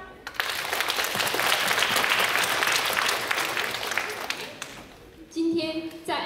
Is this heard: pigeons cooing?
no